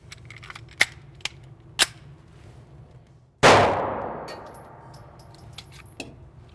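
A CZ P-07 pistol at an indoor range: three sharp small clicks or snaps spaced apart, then one loud close shot with a long echoing decay, followed by faint scattered ticks.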